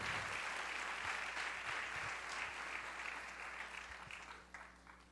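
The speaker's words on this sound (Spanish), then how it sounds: "Vamos a darle un cariñoso aplauso." Church congregation at a Spanish-language sermon applauding, a sustained wash of hand clapping that slowly fades.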